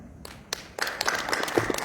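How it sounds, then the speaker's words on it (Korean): Audience clapping at the Jeonbuk Development Association policy forum, starting sparse then swelling into steady mid-distance applause from a room full of people, with no talk over it. "격려와 응원의 박수 부탁드립니다"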